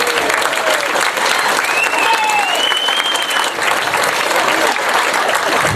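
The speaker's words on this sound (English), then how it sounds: "I think we should have another round of applause" Loud, sustained applause from a theatre audience at a variety show at the Beacon in Margate, a dense continuous clapping with a few whoops and whistles rising above it.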